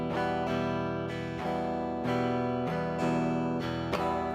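A guitar strummed in a down, down, up, up, down pattern, with bright, full chord strokes repeating in a steady rhythm, close and fairly loud with no voice over it.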